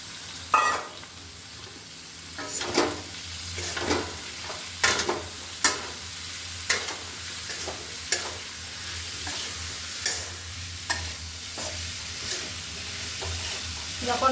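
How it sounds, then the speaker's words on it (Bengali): Dried kechki fish is stirred with potatoes and eggplant in a hot pan. Continuous frying hiss runs under repeated rhythmic scrapes and clacks of a spatula, close and fairly loud, with no voice. "এখন দেবো কেচকি শুটকিগুলি যে ছিল এগুলো এখন একসাথে নাড়া দিয়ে ঢেকে রেখে দেবো।"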